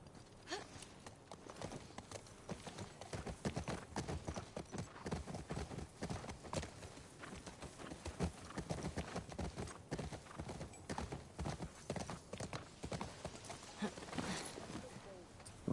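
A horse's hooves clip-clop at a steady walk in The Last of Us Part II, faint and continuous beneath a player's talk.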